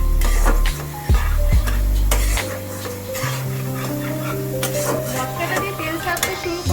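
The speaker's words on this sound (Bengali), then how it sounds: "এবার তেলের মধ্যে মশলাটা দিয়ে দেবো। মশলাটা দিয়ে ভালো করে কষিয়ে নেব।" Spices fry in hot oil in a pan while being stirred for a homestyle potato and cauliflower curry. A loud, steady sizzle runs underneath, with scraping stirring strokes and clinks of utensils against the pan throughout.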